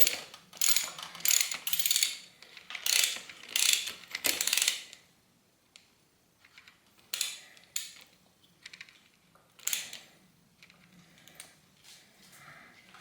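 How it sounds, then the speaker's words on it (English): A wrench ratchets as it tightens bolts on a rusted, seized RST Gila T5 bicycle suspension fork, with close bursts of rapid clicking separated by short pauses and no talking. "Then use my wrench here. Start tightening them in."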